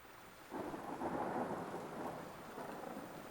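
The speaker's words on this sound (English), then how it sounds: "Thunder rumbles across the sky." Thunder rolls through a rainstorm, a long low rumble that swells in and lingers over steady rainfall, distant and heavy, with no voices.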